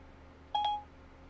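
Siri activation tone on an iPhone running iOS 8, a single short two-note electronic chime, clear against a quiet background.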